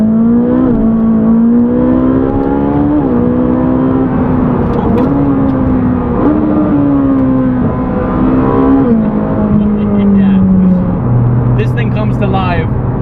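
A Ferrari 458 Speciale's engine runs loud and close in a continuous, steady drone whose pitch rises and dips over several rev sweeps, with a voice talking over it briefly.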